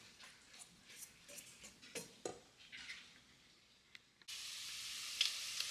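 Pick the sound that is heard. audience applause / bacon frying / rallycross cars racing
bacon frying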